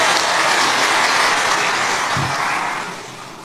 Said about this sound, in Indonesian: Tepuk tangan untuk Pogi.